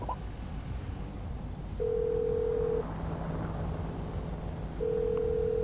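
In Grand Theft Auto V, a phone call rings out with steady dial-tone beeps, one long tone and then another a few seconds later, over constant loud background noise.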